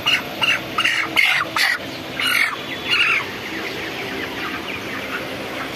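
A hen squawks and clucks in loud, agitated bursts while being handled for weighing on a poultry farm, several sharp calls in the first half giving way to quieter fluttering and background noise.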